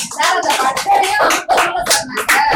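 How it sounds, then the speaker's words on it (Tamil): A group of people clapping their hands indoors, a close, uneven patter of many overlapping claps continuing throughout with slight swells. "கைதட்டுங்க"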